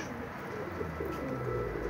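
Pigeons coo low and steady as birds land near a loft, the soft rumbling calls layered over a broad outdoor hiss with no voices.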